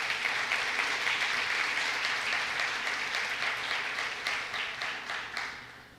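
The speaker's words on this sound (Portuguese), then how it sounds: "Pode aplaudir o Senhor por isso." A church congregation breaks into sustained applause, a dense wash of many hands clapping that holds steady and then fades out toward the end.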